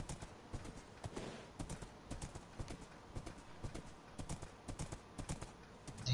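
Horse hooves clip-clop in the video game Minecraft, a quick steady run of light hollow taps at a trotting rhythm, faint and close, with no talk over them.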